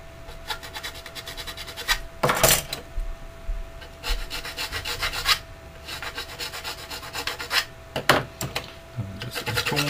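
Flat file tidying the edges of parts on an Italeri 1/48 Chinook plastic model kit, giving repeated scraping rubs in short bursts, close and fairly quiet, with pauses between strokes.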